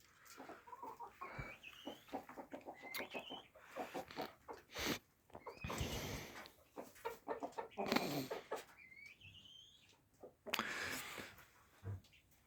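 Farmyard chickens cluck and squawk in irregular bursts at a home smallholding, some calls near and sharp, others softer, with short pauses between the flurries.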